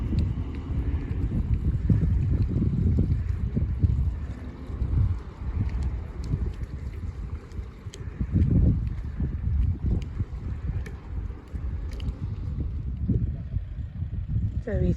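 A RIB boat motors back into Anstruther harbour, a low engine rumble that rises and falls over a steady outdoor wind hiss, heard from the quayside.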